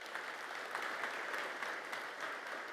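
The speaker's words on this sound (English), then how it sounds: "If we could do a quick round of applause" Conference keynote audience giving a quick round of applause, a soft, even patter of many hands heard from some distance, fairly faint and unbroken.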